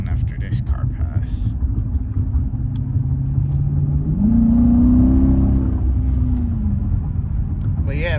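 Close interior sound of a Dodge Charger RT on the road, a steady low engine rumble that rises into a throaty acceleration midway and then settles back, with faint clicks and brief background noises.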